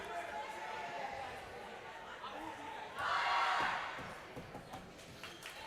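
Crowd chanting at a women's semi-final of the Canadian National Dodgeball championships, a broad roar that swells noticeably midway, with a commentator talking over it throughout.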